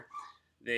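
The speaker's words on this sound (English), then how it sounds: "That's my dog." A dog gives a short, loud bark close by right after a person speaks indoors.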